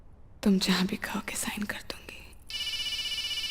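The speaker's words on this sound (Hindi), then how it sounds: "आपका फोन बज रहा है." A phone rings during a scene from the Hindi film Aitraaz: after a stretch of voices, a steady, bright electronic ringtone starts and holds to the end.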